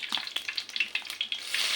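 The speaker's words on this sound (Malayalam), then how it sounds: "വെളിച്ചെണ്ണ ചൂടായി വരുമ്പോൾ അതിലേക്ക് സ്വല്പം കടുക് ചെറിയ ജീരകം ചേർക്കുന്നുണ്ട്." Mustard seeds and cumin crackle in hot coconut oil for a Kerala fish curry, giving quick irregular pops and spits over a soft, close sizzle.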